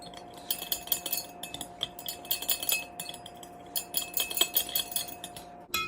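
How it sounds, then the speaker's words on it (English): A butter knife stirs sugar into tea inside a glass jar, making light continuous clinking and scraping against the glass, faint and close, in irregular quick taps over a steady low background hum. "And then I just use a plain old butter knife to stir that sugar in."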